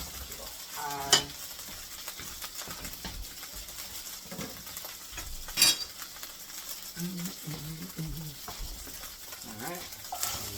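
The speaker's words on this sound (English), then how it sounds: "I usually like the garlic to be crispy a little bit, or a little slightly brown before I put the onions in there." Garlic fries in a pot for sauerkraut soup, a steady sizzle broken by stirring and occasional clinks of a utensil against the pot, heard up close.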